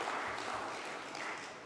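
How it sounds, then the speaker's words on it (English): Audience applause at the inaugural session of a conference on pole vaulting to a future-ready India, a steady, even wash of clapping that fills the moment without a break. "These two, I think they deserve a big round of applause for making this pole vault possible."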